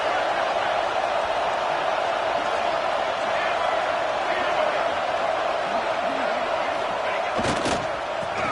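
A college football stadium crowd roars steadily at a distance before a third-and-goal play, with a brief sharp burst near the end.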